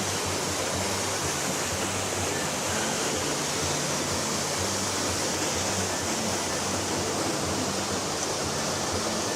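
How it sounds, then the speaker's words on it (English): A waterfall spills over artificial rock work at EPCOT, a steady, dense rushing roar that holds at an even level throughout, with no voices standing out. "I love this waterfall over here,"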